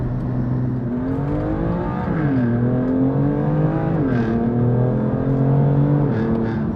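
A BMW M2 CS fitted with an Akrapovic exhaust hums with a deep, droning engine note that rises and falls through several gear-like steps, heard steadily from inside the car.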